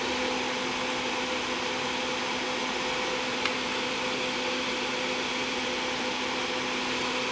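A desoldering gun runs steadily while pulling a burned, melted jack from a Frantone Lo-Tone Classic Fuzz guitar pedal, giving a continuous close mechanical hum and hiss with no talk and barely any change throughout.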